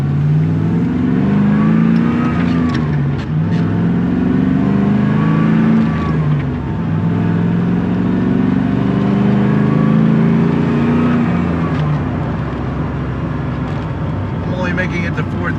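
White Land Rover Defender 110 engine revving and accelerating through the gears, heard from inside the cabin with the rising and falling drone of each pull and shift, sustained and fairly loud, with a driver talking briefly near the end.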